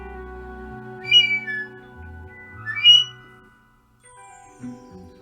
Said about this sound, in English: It's just a little plastic whistle blow-through toy.